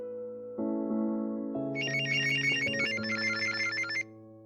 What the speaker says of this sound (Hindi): अलीशा का फोन है